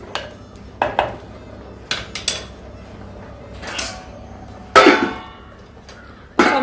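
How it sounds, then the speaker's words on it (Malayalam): A pot of erissery, the Kerala Onam dish, is stirred in the kitchen. Loud, separate metallic clanks and scrapes of a spoon against the vessel ring out with pauses between them, ending in a sharp clatter as the lid is set on. "നന്നായിട്ട് ഇളക്കിയിട്ട് അടച്ചു വയ്ക്കാം."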